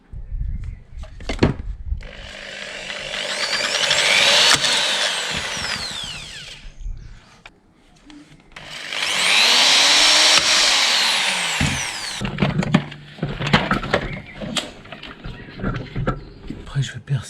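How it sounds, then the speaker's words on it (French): Power drill boring holes in rails for small safety latches: two long, loud whining drill runs close by, separated by clicks and handling knocks, with a person talking in French between them. "il faut percer les trous pour les Petits verrous de sécurité"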